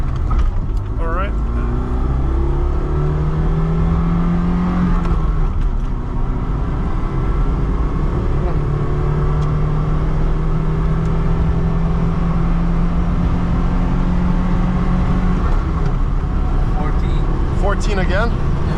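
A 2010 LADA 2107 with a 1.6 manual gearbox accelerates hard from 0 to 60, its engine droning loudly and rising through the gears from inside the cabin, with wind noise and occasional voices over it.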